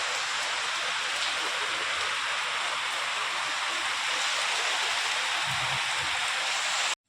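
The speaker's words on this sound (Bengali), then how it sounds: "দেখো এই বৃষ্টি হচ্ছে আর দেখো জল জমে গেছে" Steady heavy rain pours down onto pooled standing water, a dense continuous hiss of drops hitting surfaces that stops abruptly at the end.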